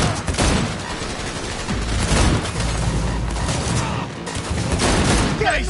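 Gunfire in Cyberpunk 2077 during a street shootout, dense bursts of shots and booms crackling nearly nonstop, loud and close, with voices shouting faintly under the barrage.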